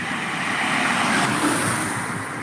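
Steady roadway roar from vehicles passing on a rural highway, a continuous broadband rush that swells slightly midway as a car or truck goes by fairly close, with no talking.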